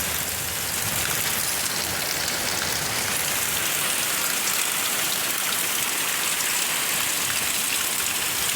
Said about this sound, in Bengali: দেখো বাইরে কি বৃষ্টি।